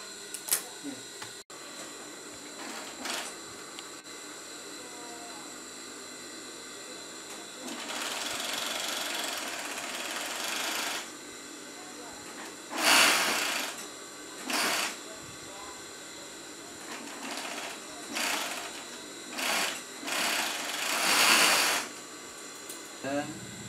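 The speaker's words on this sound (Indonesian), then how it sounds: "Ya, kita obras bagian yang telah kita jahit." An overlock serger machine stitches a sewn seam on a Saudi-style gamis robe, its motor running in short, fairly close bursts of varying length separated by pauses, with a voice talking at times.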